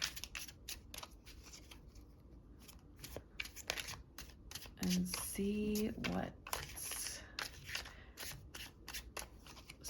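A deck of tarot cards is shuffled close by in quick riffling bursts, with a soft voice speaking briefly between them during a quiet card reading.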